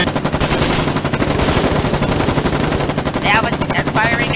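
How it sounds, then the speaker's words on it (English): Machine gun fire in the war game Foxhole: loud, dense, continuous rattling bursts close up throughout, with a brief excited voice near the end. "Machine gun fire!"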